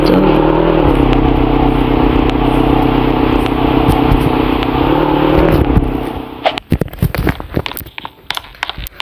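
A motorcycle engine in Roblox Brookhaven idles and revs as a loud, steady drone for about six seconds, then cuts off, leaving scattered clicks and clattery taps.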